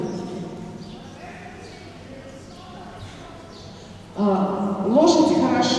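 A horse's hooves strike the ground during dressage riding, a soft rhythmic clip-clop that is fairly distant at first, then a louder passage near the end with a voice talking over it.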